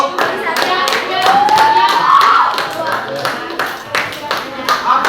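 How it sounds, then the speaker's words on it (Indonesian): Students clapping their hands at the end of a classroom practical session: a run of close, uneven claps, mixed with a voice talking over them. "tepuk tangan dulu."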